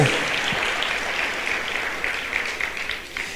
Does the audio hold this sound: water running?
no